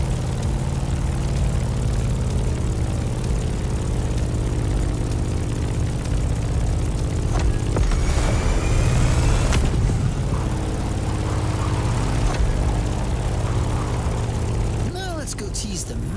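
A propeller airplane flying in The Crew Motorfest hums steadily throughout with a constant engine drone, while a voice speaks over it.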